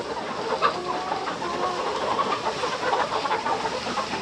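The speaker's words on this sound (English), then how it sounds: "we gotta move nice and slow because they're new chickens" Several newly arrived chickens clucking and murmuring together at close range in a coop, a continuous busy chatter with occasional louder calls.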